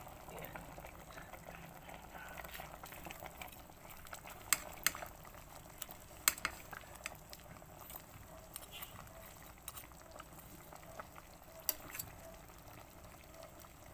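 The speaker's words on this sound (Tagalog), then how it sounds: "Kunting kulo lang siya, guys, kasi ang saluyot madulas pag sobrang luto" A pot of milkfish soup with bamboo shoots and jute leaves boils quietly, giving a faint, steady bubbling with occasional sharp little pops.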